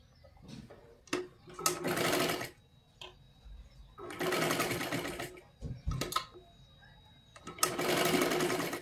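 A sewing machine stitches a blouse shoulder seam with a half-inch allowance, running in three close bursts of steady stitching separated by short pauses and small handling clicks.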